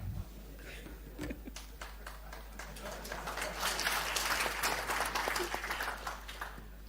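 Audience applause at a Kenya Power e-mobility conference, starting as scattered individual claps and building into fuller, denser clapping from a large crowd, over a steady low electrical hum.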